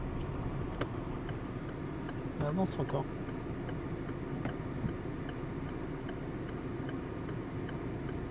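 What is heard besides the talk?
car turn signal indicator ticking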